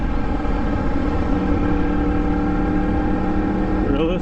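A Yamaha MT-10 motorcycle fitted with an Austin Racing exhaust gives a loud, close, steady throbbing engine rumble that shifts briefly in pitch right at the end.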